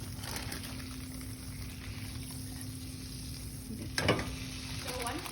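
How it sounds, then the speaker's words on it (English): Melting marshmallows being stirred in a pot, with a steady soft scraping and bubbling texture throughout and one brief louder clatter near the end. "I try to keep stirring to make sure that they don't burn"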